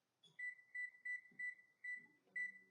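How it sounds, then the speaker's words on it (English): Kitchen timer beeping during home canning of three-bean salad, six quiet evenly spaced electronic beeps in a short run, with faint kitchen clatter in the gaps. "I'll set the timer again."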